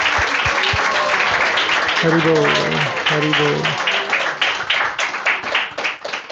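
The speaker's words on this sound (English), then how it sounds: "let's give a big round of applause to Maharaj" Devotional gathering at a Krishna Katha applauds Maharaj with a dense burst of clapping, while voices chant over it in the middle and scattered claps trail off at the end.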